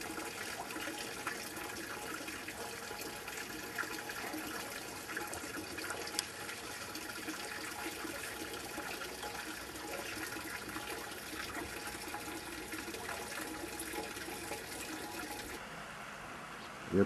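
Drinking water from a burst main near Výšinka in Turnov pours steadily through a drain channel about 100 metres from the break, a continuous loud rushing that holds unbroken throughout with no voices.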